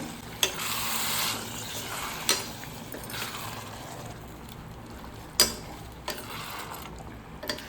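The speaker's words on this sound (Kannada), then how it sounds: "ನಾನು ಕಾಯಿನ ರುಬ್ಕೊಂಡು ತೊಗೊಂಡಿರುವಂಥ ಹಾಲನ್ನ ಹಾಕೊಳ್ತಾ ಇದ್ದೀನಿ" Ground coconut milk poured into a pan of sizzling mushroom biryani, giving a steady frying hiss with a few sharp clinks and stirring knocks, close and alone without talk.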